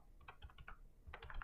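A short burst of typing on a computer keyboard to enter a search, several quiet clicking keystrokes close by with no voices.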